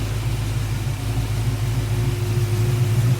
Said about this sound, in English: it's got a pretty smooth idle